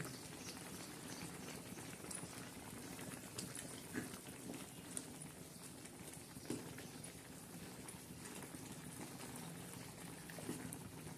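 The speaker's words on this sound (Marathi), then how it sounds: "भाजी आता चांगली शिजू राहिली" Thin onion and peanut curry with green chillies simmers in a covered pan, giving a low, steady bubbling murmur with occasional soft pops, fairly quiet and heard on its own.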